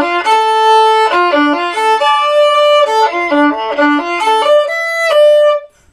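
A violin plays the opening two measures of a tune's drop section, a quick run of clear bowed notes in short phrases, close and solo, ending with a held note.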